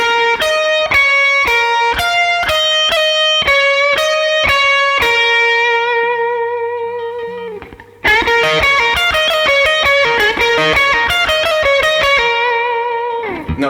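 An electric guitar plays a slowed blues lick with a mildly driven tone: repeated picked notes and sustained held bends, a pause, then a second phrase of ringing double-stops.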